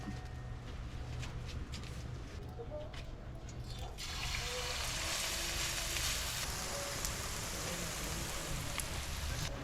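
Tortang kaykay frying in a hot pan, a steady, dense sizzle that swells louder partway through and continues without pause, close and with no talking.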